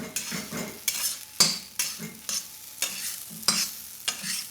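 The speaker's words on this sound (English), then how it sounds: "just give that final stir through" Lemon rice gets a final stir in a hot pan, a spoon scraping and clinking against the metal in regular strokes about twice a second over a soft sizzle, close and clear with no voices.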